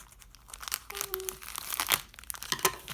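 Plastic packaging around a cross stitch kit being cut and torn open close by, with crackling, crinkling rustles and sharp tearing bursts throughout.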